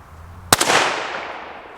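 A suppressed Ruger American Ranch rifle in 300 Blackout fires a single sharp shot nearby, followed by a short echoing decay outdoors at a close target.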